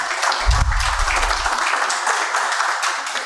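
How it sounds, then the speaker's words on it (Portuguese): Brief applause from a conference audience welcoming a guest, a short burst of clapping with some low rumble at the start, moderately loud and fading quickly without speech. "uma salva de palmas ao Itamar"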